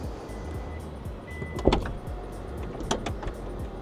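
Doors on a Denza D9 minivan drawing shut with a soft-close mechanism: two muffled thumps with a short whir, spaced about a second apart, heard close and fairly quiet over a low background hum.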